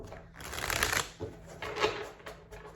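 Tarot cards being shuffled by hand during a reading, two close bursts of crisp riffling and flicking with a brief pause between, no talking.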